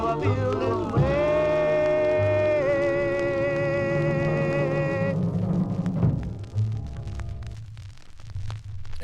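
A 1953 doo-wop 45 record spinning: sustained sung vocal harmonies over a backing band, loud and full at first, then thinning toward the end.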